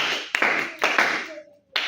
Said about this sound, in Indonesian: Tepuk tangan lu buat Haikal